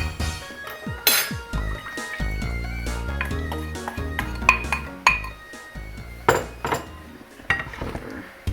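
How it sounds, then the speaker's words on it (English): A utensil scrapes and clinks against a cooking pan as ginger sauce is stirred, making repeated metallic knocks and clatter close by with no talking. "And you're just going to stir that up and then bring it to a boil"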